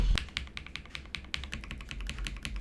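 Computer keyboard keys are clicked in a quick, uneven run of sharp taps, close and fairly quiet, with no voices.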